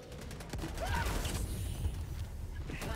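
Helldivers 2 gameplay against bugs carries a rapid burst of gunfire amid clanking, creaking mechanical game effects and rumbling impacts, loud and busy, with no voices over it.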